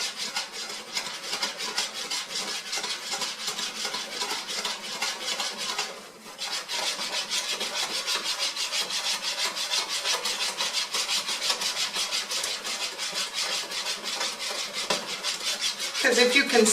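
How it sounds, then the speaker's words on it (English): Continuous scraping rattle of a skillet being shaken back and forth over the heat while a French omelette cooks, steady and close with a brief pause midway. "You really don't touch it, move it around other than the shaking of your skillet."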